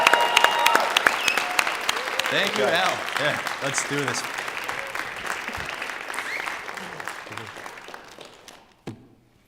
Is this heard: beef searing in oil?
no